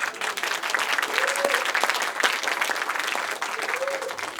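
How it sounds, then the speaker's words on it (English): Steady applause from a crowd, dense clapping filling the whole stretch, with a faint voice or whistle rising briefly through it. "Give her a round of applause."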